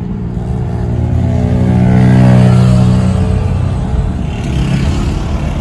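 Mercedes cars racing and revving on a drift track, a loud, close engine drone that swells to a peak roar midway and then eases back, with no talk over it.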